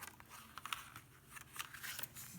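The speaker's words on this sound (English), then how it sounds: "you're going to cut on the score line" Quiet, close snipping and crunching of scissors cutting stiff card along a score line, a few uneven cuts over a couple of seconds.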